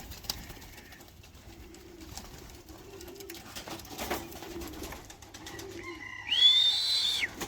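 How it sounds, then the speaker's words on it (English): Soft bird calls and cooing at a distance, then a brighter, louder burst of chirping near the end, outdoors with faint background noise. "Young birds, eh? Crazy."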